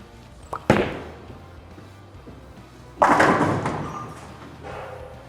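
Urethane-style NU Blue Hammer bowling ball thrown in an alley: a sharp thud at release, then a loud crash of pins around three seconds in that rumbles and fades, close and clear.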